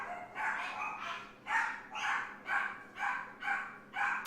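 A litter of puppies barking at home, producing a steady run of about nine sharp, high yips at a regular pace, close by and fairly loud with no talking over them.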